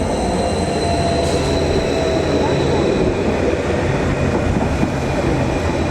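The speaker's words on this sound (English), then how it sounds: "over there is a Greater Anglia class 755. I think that's going from Stansted Airport to Norwich." A Greater Anglia class 755 train at Cambridge station gives a loud, steady rolling rumble with a faint high whine for the whole stretch.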